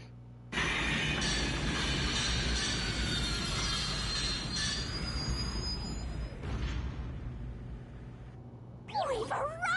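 A train pulls into a station in the video game Rain Code, a loud steady rumble of rolling carriages that sustains for several seconds, then eases off before a brief higher-pitched sound at the end.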